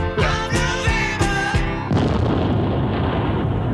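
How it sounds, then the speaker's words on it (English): A recording ends in an explosion: a few struck musical chords give way to a sudden loud burst that turns into a sustained, rumbling roar. "There's an explosion at the end."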